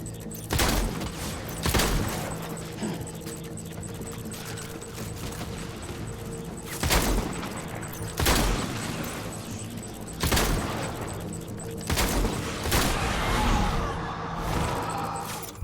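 Bursts of gunfire in a shooter video game, DSP vs Supercrzy, recur every couple of seconds as sharp loud broadband blasts over a steady game background.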